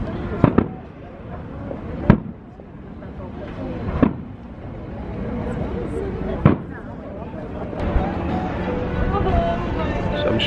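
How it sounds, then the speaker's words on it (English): Fireworks from the Wishes show at Walt Disney World burst in several sharp, distant booms spaced a couple of seconds apart, heard over a steady outdoor rumble while people talk nearby. "I'm sure you can see the fireworks going off behind us there."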